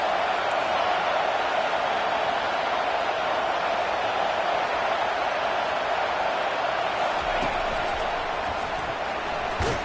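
Steady crowd roar in an American football video game, a broad constant wash of stadium noise behind the defense on a big third down, with commentary voices faintly underneath.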